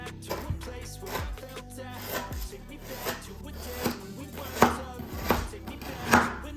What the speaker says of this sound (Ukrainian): стебло лимонграси нарізати по 1-2 см тільки білу частину